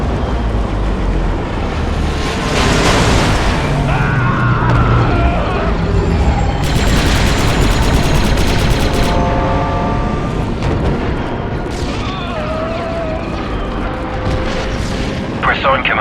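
Heavy artillery fire in the video game Star Wars Republic Commando, with loud booming blasts and rumbling explosions rolling throughout, mixed with gunfire, mechanical noise and radio chatter from soldiers talking over the battle.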